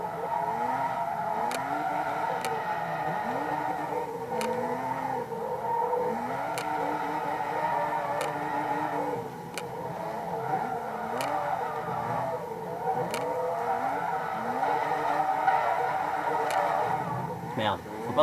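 A car drifts in the Forza 2 racing video game: engine revs rise and fall in repeated sweeps with faint tire squeal and regular clicks, a steady game soundtrack, and someone talking over it.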